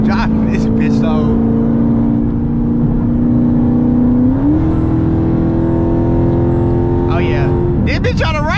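A car drives and revs through highway traffic, its engine a loud, steady drone whose pitch climbs midway as it accelerates, with voices talking over it at the start and end.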